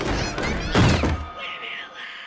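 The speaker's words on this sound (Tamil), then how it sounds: "அந்த கதவை டமால் டமால் அடிச்சுக்கிட்டு" Heavy thuds of fists banging on a bedroom door during a frightening scene, a cluster of loud, close knocks followed by a fading hiss.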